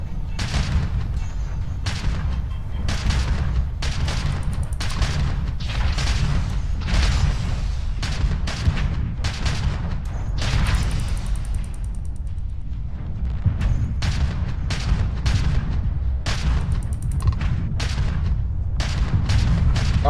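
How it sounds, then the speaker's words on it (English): Missile launches and explosions in Starfield: a long run of booming blasts in quick, uneven succession, loud and close over a constant low rumble, with a brief lull midway. "Right when I launched a missile."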